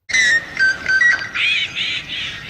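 A gray catbird calls at close range with a quick run of squeaky, whistled notes and harsher squawky mewing phrases, loud and alone for a couple of seconds.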